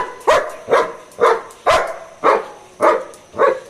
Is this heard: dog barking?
yes